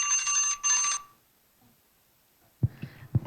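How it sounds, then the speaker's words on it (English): An alarm goes off during a public hearing in Morro Bay, two bright ringing bursts at the start, followed by near silence and then a few sharp knocks and handling noises. "I think we messed up on the alarm there"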